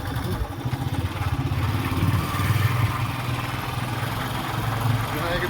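A motorcycle engine labours up a hill temple road in first gear, a steady loud low chugging throb that holds throughout while people talk over it.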